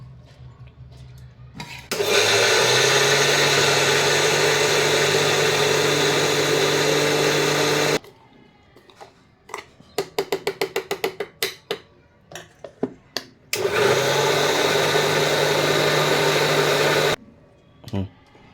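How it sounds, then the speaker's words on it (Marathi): An electric mixer grinder grinds soaked moong dal, rice, green chillies and coriander, two loud sustained whirring bursts of several seconds each, separated by short rapid pulses and rattling of the jar. "आता हे आपण मिक्सरमधून काढायचे"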